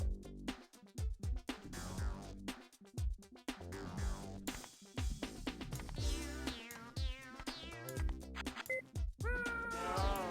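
A cartoon cat meows repeatedly in the puzzle video game The Incredible Machine, a long run of loud, clear yowls and caterwauls with short gaps, alone without talk.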